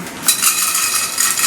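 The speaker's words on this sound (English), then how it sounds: "pasta goes in a pan." Dry pasta tipped into a pan, giving a bright, close rattling clatter of hard pieces against metal that lasts about a second and a half, with no speech.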